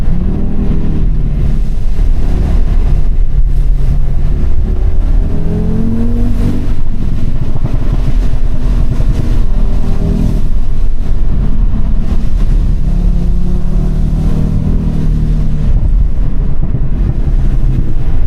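A roughly 500-horsepower Audi RS3 with a Revo Stage 2 tune revs and accelerates continuously on a road, loud and close, with a deep growl rising and falling under steady wind rush.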